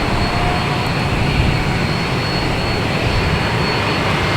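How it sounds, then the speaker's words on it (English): Etihad jet taking off at Boston Logan Airport, bound for Abu Dhabi: a steady, loud broadband engine roar that holds without a break throughout, with no talk. "We have Etihad taking off, heading back to Abu Dhabi."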